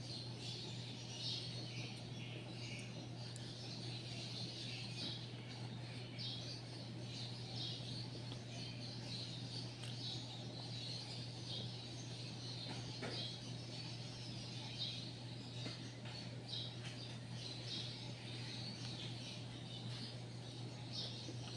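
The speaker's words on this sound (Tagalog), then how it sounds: "tunog ng ibon. May uwak din dito." Birds, crows among them, call outdoors in the morning, faint scattered chirps and caws over a steady low background hum.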